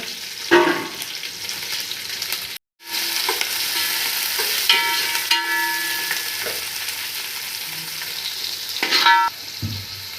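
Chopped onions fry in a hot pan with bay leaves and spices, a steady close sizzle broken by repeated scraping stirs of a utensil, with one short cut to silence partway through.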